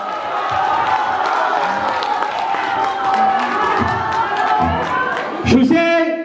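A concert audience at a youth cruise concert in a hotel hall in Weihai, China, makes a steady crowd roar with scattered cheering and clapping. A voice talks over it, and a brief louder burst comes near the end.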